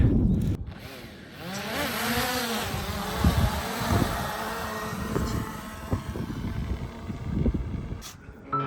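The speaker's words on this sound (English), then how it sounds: "That's my drone." A camera drone buzzes steadily in flight with a whining insect-like drone that wavers in pitch, then cuts off abruptly near the end as it crashes.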